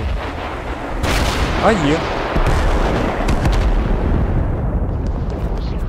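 Heavy booming artillery fire from an M109 howitzer in the war video game Total Conflict: Resistance, a sudden loud blast rolling into a continuous rumble of battle noise, with people talking briefly over it.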